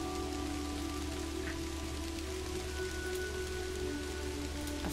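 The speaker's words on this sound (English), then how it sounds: "In the rain." Steady rain falls in the video game Kathy Rain, an even, continuous patter on surfaces under a low ambient hum, with no talking.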